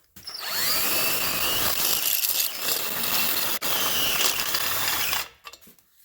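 A power drill with a step bit bores a 3/4 inch hole for an O2 sensor in the exhaust of a Ford E250 Econoline, a loud steady grinding whir with one short break before it stops.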